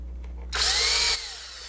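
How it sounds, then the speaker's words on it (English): A power drill drives screws into a guitar pedalboard during a pedal-mounting build, a single loud whirring burst of about half a second that stops abruptly, close up with no talk. "the unit interferes with the drill a little bit"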